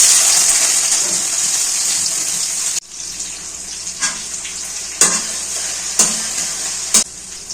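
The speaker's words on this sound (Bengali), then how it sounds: "কড়াইয়ের মধ্যে পরিমাণ মতো তেল দিয়ে নেব, পরিমাণ মতো পেঁয়াজ কুচি দিয়ে দিলাম" Loud, steady sizzling hiss of chopped onions frying in hot oil in a kadai. It briefly softens, then carries on with a few sharp knocks of stirring.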